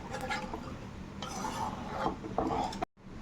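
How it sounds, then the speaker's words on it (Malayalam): A spoon stirs crushed herbs into a pot of ayurvedic Karkidakam medicinal porridge, scraping and clinking against the pan in a steady continuous rhythm at close range, ending with a brief cutoff. "നന്നായിട്ട് ഇളക്കി കൊടുക്കണം."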